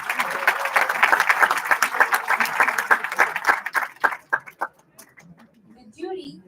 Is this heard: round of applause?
yes